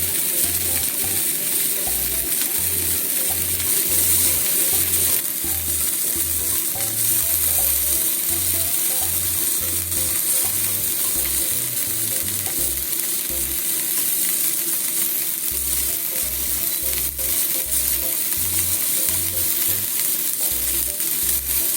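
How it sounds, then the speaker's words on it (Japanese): Eggplant pan-frying in a little oil over medium to low heat, a loud, steady close sizzle with a regular low thumping rhythm running underneath throughout, and no one speaking. "両面ね、焼き色つくまでしっかりと焼きますよ"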